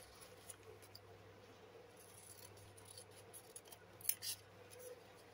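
Scissors snip paper for a junk journal, with quiet small cuts and rustles at close range and a brighter cluster of snips near the end.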